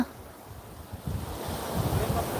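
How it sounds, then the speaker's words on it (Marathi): Strong, cold wind roars through trees and buffets the microphone, a deep rumbling gust that swells louder toward the end. "गार वारं सुटले बघा झाड कसं कसलं जोरात वारा आहे"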